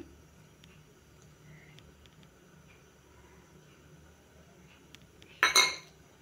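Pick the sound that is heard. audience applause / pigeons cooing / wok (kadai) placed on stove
wok (kadai) placed on stove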